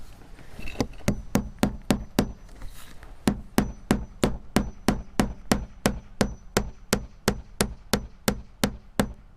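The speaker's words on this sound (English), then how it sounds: "we're gonna start nailing right about in the middle to help hold it" Hammer driving nails into siding boards on a house wall, a long steady run of sharp, evenly spaced blows close by, about two per second, with one brief pause, and no talking.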